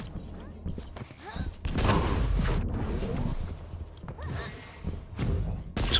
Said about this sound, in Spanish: Escuché disparos cerca de la base.